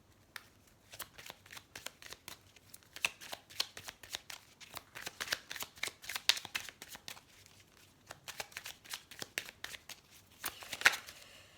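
Tarot cards being shuffled for a reading, with soft repeated riffling and flicking of the deck close by, coming in bursts with brief pauses and no talk.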